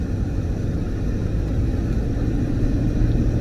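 A 1998 Ford Explorer with about 180,000 miles drives along with the air conditioning on, its engine a steady low rumble heard from inside the cabin and building slightly toward the end.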